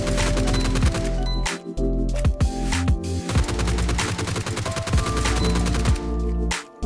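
Full-auto gunfire in a first-person shooter game during a recoil-control drill at a target range: a loud, continuous rapid string of shots with only brief pauses between bursts.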